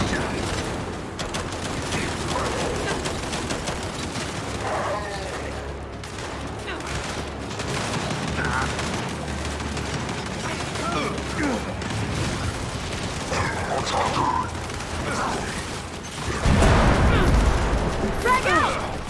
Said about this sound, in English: We're pinned down! We can't deal with those turrets!